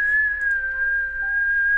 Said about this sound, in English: There was a long, low whistle outside.